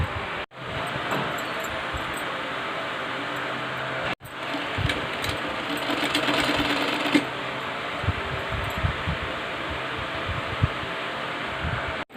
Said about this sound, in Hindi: यहाँ पर हमें लंबी चाल से सिलाई लगा देनी है